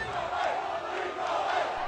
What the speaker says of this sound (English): crowds clashed with police who used pepper spray to push them back